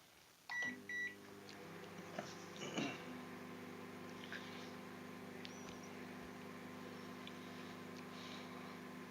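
Microwave oven cooking chips: a few sharp beeps at the start, then a steady electrical hum running alone and fairly quiet to the end.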